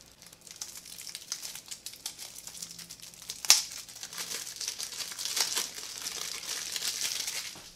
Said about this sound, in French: je vous ouvre le paquet de cartes